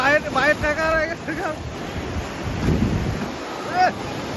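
Sea waves wash and break on the beach at Cox's Bazar with wind buffeting the microphone, while voices talk nearby at the start and end.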